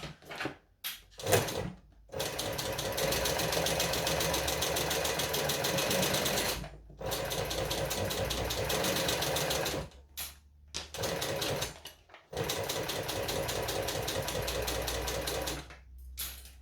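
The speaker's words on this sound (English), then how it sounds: "I actually have my machine slowed down so it can't go too fast." A sewing machine stitches a bag at a deliberately reduced speed, running in long steady bursts broken by short pauses, loud and close, with no talking.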